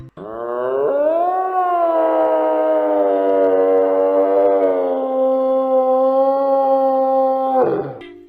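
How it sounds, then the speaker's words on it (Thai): A deer call rings out as a single long, loud tonal cry with rich harmonics, rising slightly at the start and holding steady for about seven seconds before breaking off, with no other sound around it. "เสียงของกวาง"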